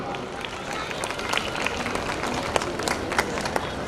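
Applause for junior KG children performing at a school annual function: a crowd claps steadily throughout, a dense, moderately loud patter with a few sharper claps standing out, and voices mixed in.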